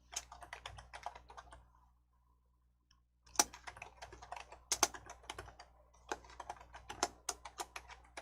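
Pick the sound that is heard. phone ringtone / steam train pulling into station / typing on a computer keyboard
typing on a computer keyboard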